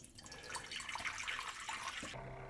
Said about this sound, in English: I'm going to put the filtered water right back into the bowl and have it return into the unit.